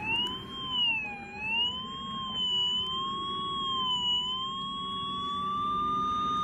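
A Vivax Metrotech VM-560 cable locator receiver emits a continuous electronic signal tone that wavers slightly in pitch, moderately loud over faint background noise.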